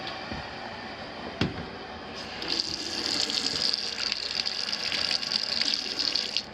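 A sink faucet in a home's interior plumbing runs water, starting as a faint trickle and swelling into a steady, close, rushing gush that carries on to the end.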